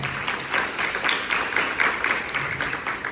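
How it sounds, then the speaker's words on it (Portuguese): Church prayer group congregation applauding after a Gospel reading, a steady wash of many hands clapping at moderate volume throughout, with no speech over it. "Vamos aplaudindo essa palavra."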